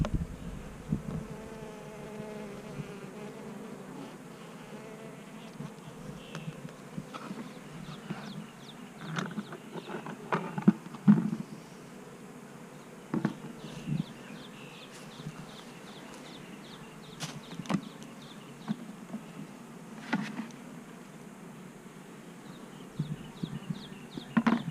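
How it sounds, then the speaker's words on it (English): Bees buzz steadily outdoors, a low continuous hum at moderate-to-faint level with scattered brief clicks and taps across the whole stretch and no talk. "Lots of bees."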